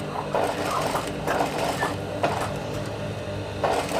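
A sewing machine runs steadily while stitching fabric lining, its continuous mechanical whir close and even, with small rhythmic rises in the motor noise throughout.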